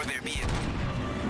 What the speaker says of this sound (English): You guys like flashbangs?